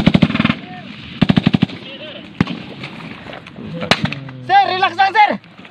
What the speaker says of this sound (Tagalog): May pumutok. May sniper na dito.